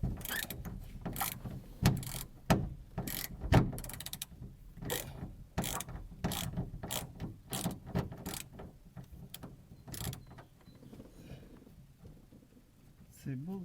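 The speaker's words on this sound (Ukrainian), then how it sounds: "Відкручую." A ratchet wrench unscrews a sunroof part on an Opel Vectra A, with repeated close, crisp ratcheting clicks in uneven bursts and a voice speaking briefly underneath.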